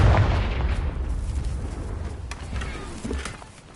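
A Confringo blasting spell explodes in Hogwarts Legacy, its deep boom fading into a rumbling tail, with a few light pops and a small burst late on.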